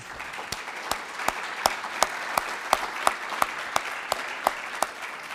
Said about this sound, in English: Let's give a final round of applause to our 16th class.